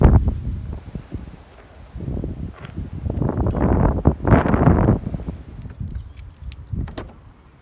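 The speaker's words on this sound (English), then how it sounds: "Oh my god, it's so windy." Strong gusts of wind buffet the microphone outdoors in Australia in loud, rough bursts, with some rustling and faint clinks in between.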